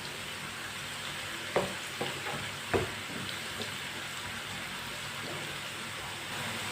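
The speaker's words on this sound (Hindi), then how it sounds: "ऐसे ऐसे चम्मच चलाते हुए पकाना।" Tinda (apple gourd) frying in a pan, a steady close sizzle with a few sharp clinks and scrapes of a spoon stirring through it, no voices.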